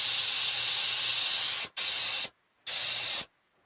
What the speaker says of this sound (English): Like the spraying on the thing first to make sure.